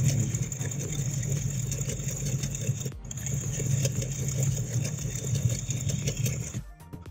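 Home sewing machine stitching stretchy T-shirt hosiery fabric with a blue tip needle, a steady rapid mechanical whir and clatter running close and loud, briefly stopping and restarting midway before halting at the end.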